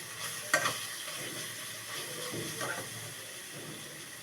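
Coriander and cumin powder frying in hot oil in a pan for a Bengali doi katla fish curry, giving a steady soft sizzle and hiss, with a brief stirring clatter early on and faint scraping later.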